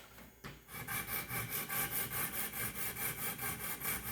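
Knife blade stroked rhythmically across a Wicked Edge Gen 4 sharpening stone, working half on and half off the stone, giving a steady series of about fourteen close, even scraping rasps after a brief quiet start.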